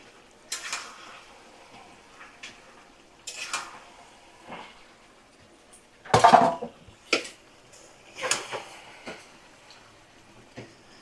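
Metal utensil scraping and clinking against a pot while mutton is stirred with spices over a medium flame: irregular clatters and knocks of varying loudness, with quiet gaps between.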